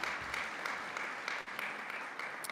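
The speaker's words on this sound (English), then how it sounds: "Let's give Gold Star family members a round of applause" An audience at a Veterans Day ceremony claps steadily, a moderately distant, even patter of many hands with a brief dip midway.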